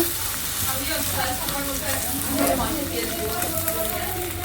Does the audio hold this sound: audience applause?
no